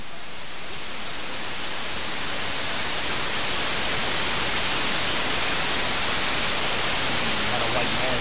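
White noise static in the video game The Stanley Parable, a harsh broadband hiss that swells steadily louder and fills the whole sound, with a faint voice buried under it near the end.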